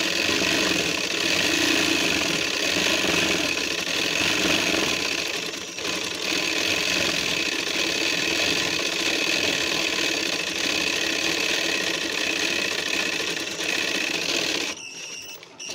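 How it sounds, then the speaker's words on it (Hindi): A sewing machine runs continuously as it stitches the button placket of a kurta, a fast steady mechanical whir that briefly dips near the middle and stops abruptly at the end, close up with no talking. "और ये दूसरा सिलाई लगा रहे हैं बटन पट्टी पे"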